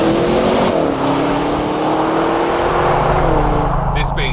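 Latest Audi RS6 engine revving through an exhaust fitted with OPF filters, a loud, steady droning roar that rises and shifts in pitch close by, with a brief higher whine near the end.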